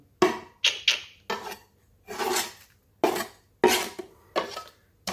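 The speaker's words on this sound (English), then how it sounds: "I'm just cutting here some spring onions, frozen." A knife chops through frozen spring onions, about eight separate gritty, rasping cuts in uneven bursts, close and clear, with no one speaking.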